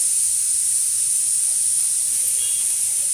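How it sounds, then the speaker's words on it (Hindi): A loud, continuous high-pitched hiss of steam escaping, like a pressure cooker whistle, holding steady without a break. "कुकर में लग रही है सीटियाँ,"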